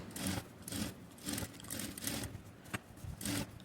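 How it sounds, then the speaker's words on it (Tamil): A sewing machine stitches a soft silk saree blouse with a potli neck in short, rhythmic bursts of whirring, pausing briefly between runs; fairly quiet, with no speech. "அப்படியே திரும்ப வந்து ஒரு கால் இன்ச்சு கேப் போட்டு இன்னொரு தையல் போட்டுக்கணும்"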